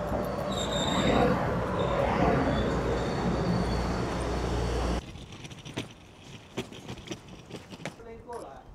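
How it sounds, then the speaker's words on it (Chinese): An old blue train arrives at a small station in Taiwan with a loud, close rumbling roar and faint wheel squeal for several seconds, then it drops to quieter clatter as voices talk nearby. "看这边来了一个老火车，很漂亮的蓝色哈"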